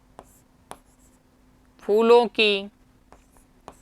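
A maths solution for a Class 10 arithmetic progressions problem is written out with faint, sparse taps and strokes. A short spoken word falls in the middle.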